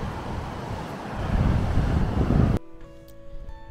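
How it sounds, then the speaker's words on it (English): Loud wind on a Tasmanian beach roars and gusts against the microphone for a few seconds, then cuts abruptly to a quieter background with faint tones. "It's a bit windy."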